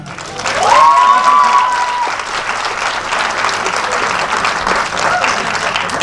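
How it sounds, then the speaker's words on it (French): A comedy gala audience applauds in a theater, with sustained, fairly loud clapping throughout and a brief cheer or whistle near the start. "Petit applaudissement pour elle."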